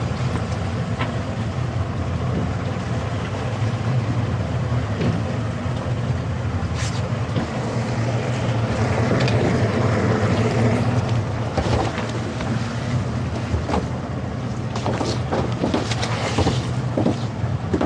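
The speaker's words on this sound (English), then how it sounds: "I'll dump this thing and put the engine on." A boat engine drones steadily throughout, low and continuous, with wind buffeting the microphone and occasional splashes and knocks.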